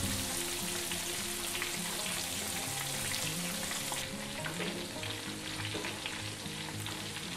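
Red snapper deep-fries in hot oil over a lowered gas flame, giving a dense, steady sizzle and bubbling hiss that carries evenly through the whole clip with no voices.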